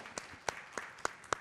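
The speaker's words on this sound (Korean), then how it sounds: "박수 부탁드립니다" Faint, sparse applause at an international conference roundtable. Five or so distinct hand claps sound at an even, steady pace, distant and quiet, with no talking.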